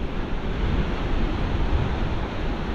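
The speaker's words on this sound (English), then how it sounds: "it's a bit at about 20 mile an hour southerly wind" A southerly wind of about 20 mph rushes across a coastal fishing spot, producing a steady, loud broadband roar with some buffeting against the microphone and possible surf mixed underneath.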